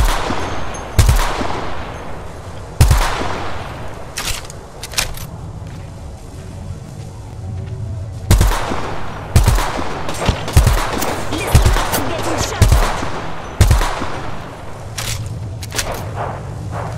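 Apex Legends gunfire cracks out loud in repeated bursts and single shots spread across the whole stretch, with brief quieter gaps between volleys.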